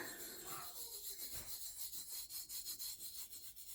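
A light hand rubs over the glitter white wash coating on a tumbler, making soft, quick, rhythmic rubbing strokes close by. The strokes grow steadier and more regular toward the end, and no one speaks.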